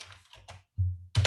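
A few quick clicks of keys being typed on a computer keyboard, close and isolated, with brief pauses between the short bursts.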